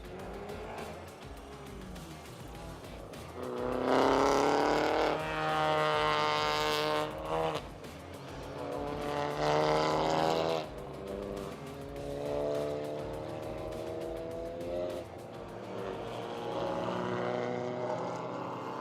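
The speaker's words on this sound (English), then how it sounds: "See all the cars entering the circuit now." Race cars roll into the Jerez circuit after a Formula 4 race, engines droning and swelling at a moderate distance in overlapping passes, a rising and falling mechanical hum over a constant background.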